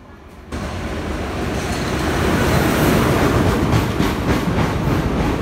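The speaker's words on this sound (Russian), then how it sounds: "Итак, друзья, наш поезд приехал наконец-то." Passenger train in Sri Lanka rolling in, a steady broadband rumble of wheels and carriages that swells after a brief quiet start and stays loud and close throughout, with faint rhythmic clatter and no talking.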